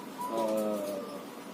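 A single zebra dove (perkutut) gives one soft, close, rolling coo that lasts about a second against a quiet background.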